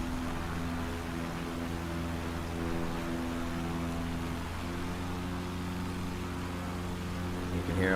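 A Lycoming engine on an NX Cub plane in Microsoft Flight Simulator drones steadily at part throttle, a continuous layered hum with a rushing wash over it, holding the same pitch throughout with no voices.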